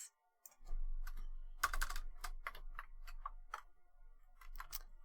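Typing on a computer keyboard: scattered, close key clicks and taps in irregular bursts over a low background hum, quiet and without any voices.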